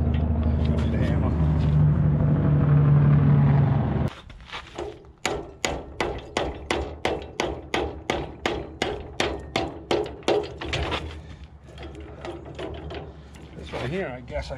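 A hammer strikes a part on a 1943 John Deere B tractor in a rapid, even series of sharp metallic knocks, close and fairly loud, following a running engine that cuts off; a voice is heard briefly.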